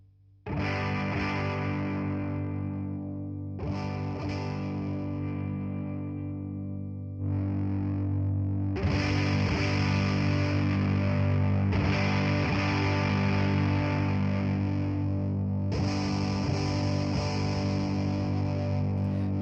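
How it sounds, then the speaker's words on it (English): Electric guitar driven through a heavily mid-scooped Big Muff-style fuzz pedal from OKKO FX, playing loud, thick sustained chords in several bursts, each ringing out before the next hit, with no talking. "that's the sound of a really scooped Big Muff."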